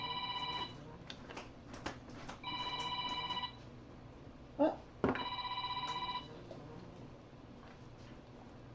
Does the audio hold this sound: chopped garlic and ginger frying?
no